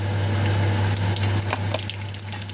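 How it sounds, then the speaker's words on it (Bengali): Nigella seeds sizzling steadily in hot oil left from frying hilsa fish, a loud, continuous crackling hiss close up, with a few sharper pops. "আমি ওই তেলেই দিয়ে দেবো একটু কালো জিরে"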